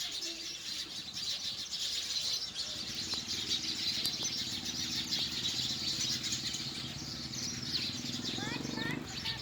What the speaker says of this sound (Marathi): हे पहा, चिमण्यांचा चिवचिवाट.